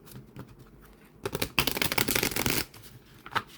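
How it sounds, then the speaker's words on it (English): Cards riffle and slap in an overhand shuffle, a quiet start building to a dense burst of rapid card flicks, then tapering off. "Overhand shuffle. No clumping."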